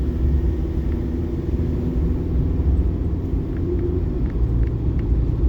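A camper van drives along a Pyrenees mountain road, heard from inside as a steady low engine and road rumble that stays constant throughout, with no talking.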